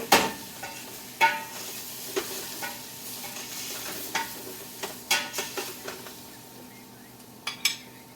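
Onions and peppers sizzle in olive oil in a pan, a constant frying hiss punctuated by intermittent clinks and scrapes of a utensil stirring against the pan.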